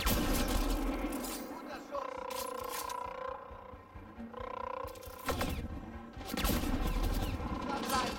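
Gunfire in the video game Mass Effect: Andromeda, with sharp shots and bursts over game music and electronic tones, mixed with someone talking and in-game voices.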